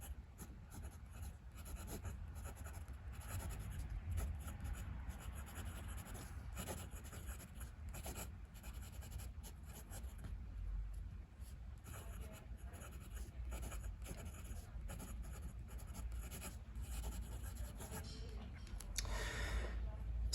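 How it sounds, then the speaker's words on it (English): A Narwhal piston fountain pen nib scratches steadily across paper in a continuous, faint rasping stroke, close up, with soft breathing in the background. "Let's just do a quick little writing sample."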